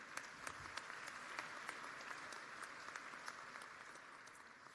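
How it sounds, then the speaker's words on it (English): Applause from the audience at a university commencement ceremony, a continuous mid-distance wash of clapping at even level with no talk over it. "And now, you can do one more round of applause."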